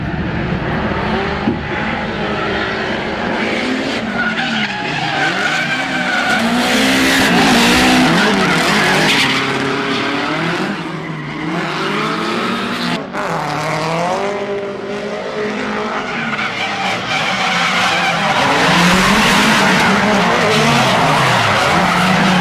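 Engines roar and tires squeal continuously as cars slide and skid, the screeching rising and falling throughout at close range.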